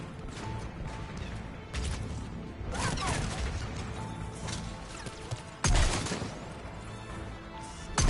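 A grenade blast amid Mass Effect 3 combat: a sudden loud burst near the end stands out from dense, continuous gunfire, clatter and impacts that fill the whole stretch.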